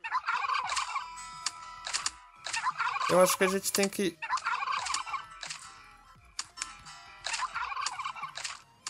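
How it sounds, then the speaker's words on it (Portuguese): Turkeys in the video game Last Day On Earth gobble in repeated rapid bursts, loud and close, with a denser flurry midway, while a person speaks briefly over them. "Tem um ali que tá atacando os peru."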